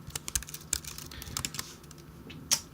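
Quick, close keystrokes on a computer keyboard while Python pandas code is entered, a dense run of crisp taps ending with one louder key press, with no talking.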